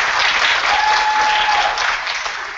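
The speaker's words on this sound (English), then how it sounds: "you can also give him a round of applause at the audience" An audience at an academic cosmology talk claps steadily in a dense burst of applause that slowly tapers off.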